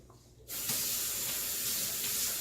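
Water from a tap pours into an emptied tomato can, starting abruptly after a brief quiet moment and then running as a steady, close hissing splash.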